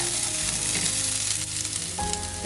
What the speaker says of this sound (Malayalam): ഇനി അതിലേക്ക് ഞാൻ ചിക്കൻ ഇടാൻ പോവാണ്.